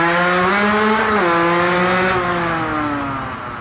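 Motorcycle engine during a wheelie practice attempt, a steady harmonic drone that rises in pitch briefly, drops, then holds and gradually fades, loud and close with no talk.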